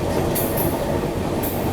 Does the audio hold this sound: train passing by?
yes